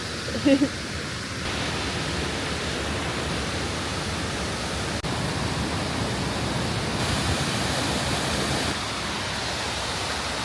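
Swallow Falls, a waterfall in North Wales, rushes as a constant broadband roar, steady and fairly close, with a brief bump of handling noise near the start.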